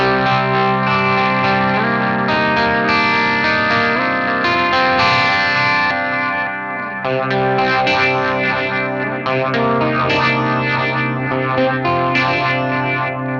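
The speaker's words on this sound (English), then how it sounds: "now let's go to the echo that's built in here" An electric guitar played through the built-in echo of a Donner mini pedal rings out in sustained, distorted chords, with each phrase trailing into repeating echoes and a washy chorus shimmer, loud and alone.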